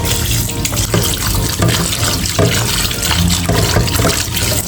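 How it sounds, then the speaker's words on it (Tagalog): Food is rinsed under a running kitchen tap, with a loud, steady gush of water splashing into the sink from start to finish and no voices. "At siyempre sa hugasan lang natin ito isang beses."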